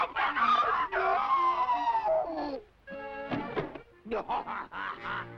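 A cartoon court jester, Woody Woodpecker, does a voice imitation of a rooster crowing: a loud, strained, warbling cry, then a short pause and a few more squawking bursts.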